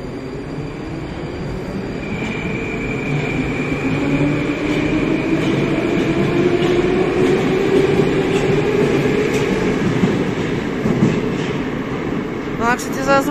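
Moscow metro train running on the Big Circle Line, its sound resembling an older Nomernoy series train; a steady loud rumble and rising motor whine carry throughout, with brief clicking near the end.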